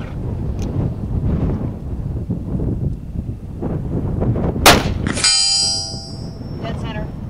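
A single sharp gunshot from an 1851 Navy Colt revolver fired at a 75-yard target, followed by a ringing metallic tone that fades over about two seconds, with people talking before and around it.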